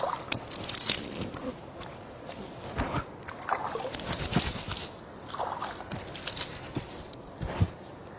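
Water splashes and sloshes in irregular handfuls close by as a face is washed during Islamic ablution, with dripping patter between splashes and a voice speaking faintly now and then in Hindi.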